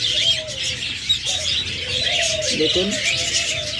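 A pair of lovebirds chirps and twitters in quick, bright bursts close by, with lower cooing notes beneath, while someone speaks briefly over them.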